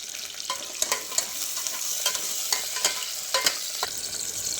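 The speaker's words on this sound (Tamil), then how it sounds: "ஒரு நாலஞ்சு பல் பூண்டு ஒரு கத்து கருவேப்பிலை எல்லாம் சேர்த்து நம்ம தாளிச்சுக்கலாம்" Garlic cloves, onion and curry leaves crackle in hot oil while being tempered, a steady bright sizzle broken by sharp scraping stirs, close and without any talk.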